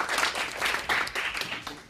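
An audience claps in a sustained, dense burst of applause to welcome the head of the company Acryl onto the stage at the 12th Open Up event, with no voice over it.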